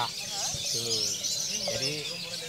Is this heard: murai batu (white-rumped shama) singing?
yes